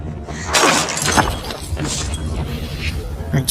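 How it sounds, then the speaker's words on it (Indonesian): A glass cell is smashed with a bench: glass shatters loudly in a burst of crashing and breaking, with scattered debris sounds trailing off afterward. "Thomas muncul dan langsung melempari kaca sel dengan bangku. Sel tersebut kemudian pecah"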